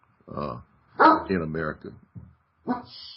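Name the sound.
dog barking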